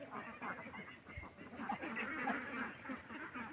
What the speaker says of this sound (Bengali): এই যে এগুলান বড় হাঁস।